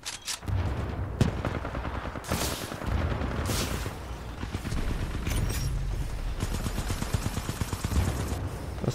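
Heavy automatic fire from a gun turret in Titanfall 2 rattles in dense, continuous bursts with booming impacts, loud and close, no talking over it.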